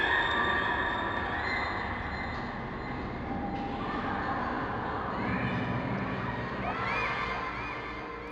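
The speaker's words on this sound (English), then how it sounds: "you can actually hear the faint sound of children laughing and screaming" Faint, distant children laughing and screaming drift across the playground in Half-Life 2's game world, a thin wash of high voices over a low ambient bed.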